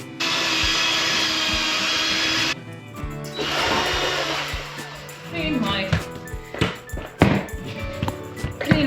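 A mixer whirs steadily while stirring filler, then cuts out, followed by scattered knocks, scrapes and rattles as the mixer is cleaned, with speech at times.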